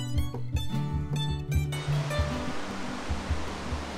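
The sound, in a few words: raging torrent of mountain water in the High Caucasus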